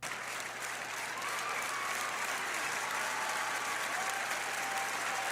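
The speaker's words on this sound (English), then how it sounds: "WWE fans Lyra got him up. applauding this great matchup for the Women's Intercontinental title" Wrestling crowd at a WWE event applauding a Women's Intercontinental title match, a dense, continuous roar of clapping that fills the arena and swells slightly after the first second.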